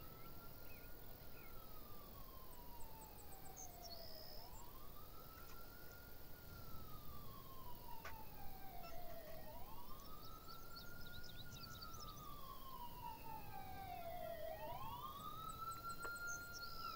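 Police siren in the video game Thief Simulator, a wailing tone rising and falling in slow repeated sweeps over a faint, steady background.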